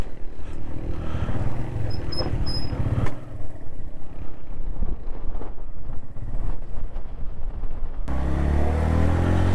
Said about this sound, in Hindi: तेज हवाएं।